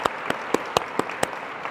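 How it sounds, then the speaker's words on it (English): Scattered, sparse hand claps at a law enforcement graduation ceremony, a few distinct sharp claps spaced irregularly over a quiet room background, fading rather than building into full applause. "So let's give Mr. Jay Romine a round of applause for all that he's done to make this the best possible"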